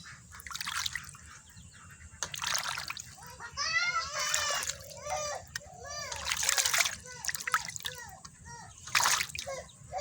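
Leaves are swished and washed by hand in water, giving repeated close splashing bursts with drips in between, while voices and chirping sounds carry on in the background.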